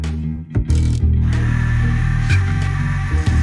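A harsh mechanical whirring grinds steadily for a few seconds after a brief start-up, a dentist drill in the video game Deponia running continuously up close.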